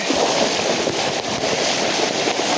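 Floodwater from heavy monsoon rain rushes through Umej village in Una taluka, a loud, steady, broadband roar with no voices over it.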